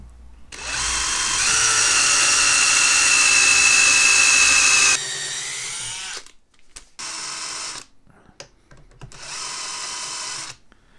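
A power drill bores a 4.2 pilot hole in a kart frame, giving a loud, steady whine for several seconds, then a few shorter bursts with pauses between them.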